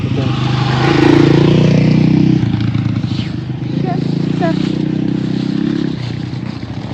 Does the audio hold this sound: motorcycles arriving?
yes